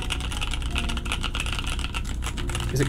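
Rapid clacking keystrokes on a Honeyboard 60 mechanical keyboard, typed continuously at close range with a dense, steady rhythm and no speech.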